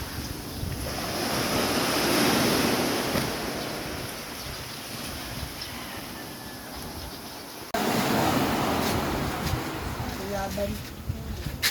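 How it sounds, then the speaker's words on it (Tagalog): Loud ocean waves surge and crash on a beach during a storm, with gusts of wind buffeting the microphone; voices can be heard faintly in the background. "sobrang lakas ng alon eh"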